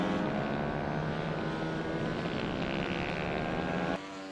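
An Ohvale 190cc minibike engine drones loudly and steadily under throttle, heard onboard during a MiniGP race. The sound is a constant buzzing engine note that drops suddenly just before the end.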